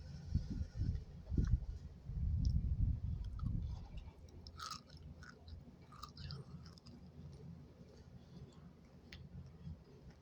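Close, crunchy chewing of Dubai chocolate, loud at first and then fading into softer mouth sounds with a few sticky clicks, with no talking.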